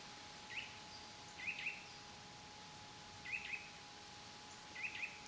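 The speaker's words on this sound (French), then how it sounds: "On entend les oiseaux, un peu de vent." Birds in a small patch of woodland within a Limousin pasture give four brief, faint chirps spaced a second or two apart, heard at a distance over a steady hush of soft wind.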